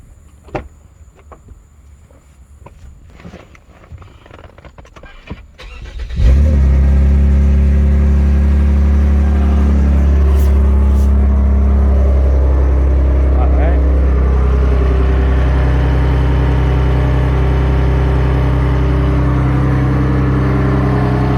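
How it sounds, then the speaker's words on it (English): A Lexus after a fuel rail pressure sensor replacement, its engine starting after several seconds of clicking and rustling, then running with a loud, steady, close drone for the remainder while someone talks. "I want to rev the shit out of this car."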